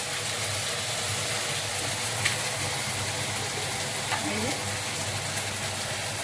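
Vegetables frying in a pan with ginger paste and spices for a children's snack, a steady close sizzle with faint clinks of stirring, running continuously without talk.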